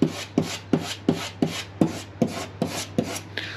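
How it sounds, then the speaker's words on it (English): Razor blade scraping white oxidized residue off faded ATV plastic, a rhythmic series of short, gritty scrapes about three per second, close up and alone. "I take this razor blade, I work on scraping off all that white stuff right there."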